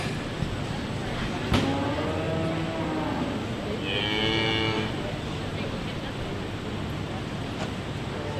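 A steer lows in a long, drawn-out moo at a county dairy and beef cattle show, followed by a second higher, shorter call, heard over steady wind-like hall noise with a sharp knock early on.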